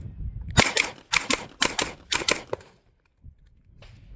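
Pistol shots fired during live-fire practice, a quick run of five or six sharp cracks at an even rhythm, close and moderately loud, followed by a near-silent pause.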